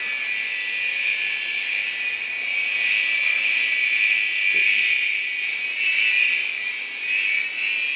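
An Air Hogs toy helicopter flies indoors at full throttle, its small motor giving a steady, close, high-pitched whine that holds for the whole stretch with no break.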